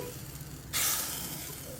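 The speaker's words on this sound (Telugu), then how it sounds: "ఈ పోపుని ఇందులో వేసి" Hot tempering of dried red chilies, curry leaves and asafoetida hits a pot of mixed-vegetable sambar, bursting into a sudden loud sizzle after quiet, then hissing steadily close by.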